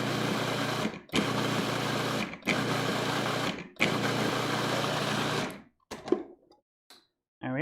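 A food processor pulses sugar with chopped fruits and vegetables in four short whirring bursts separated by brief pauses, close and loud, then a few faint clunks as it stops.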